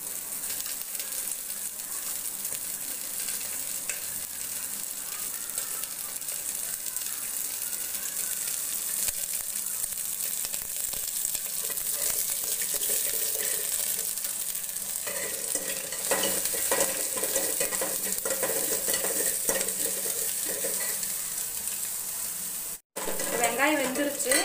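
Onions frying in a pan with chillies and curry leaves for horse gram rasam, a steady close sizzle with occasional stirring scrapes, running continuously without speech.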